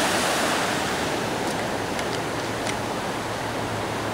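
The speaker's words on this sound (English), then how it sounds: "that is all bubbling with water right up to the bank" Steady, loud floodwater rushes under a bridge in a storm, roaring continuously, a dense wash of churning flow with no pauses.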